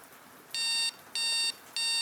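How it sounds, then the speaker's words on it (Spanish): An alarm clock rings in three even bursts of bright electronic beeping with short pauses between them, loud and close over a quiet background. "El sonido de la alarma indicaba el inicio de un nuevo día."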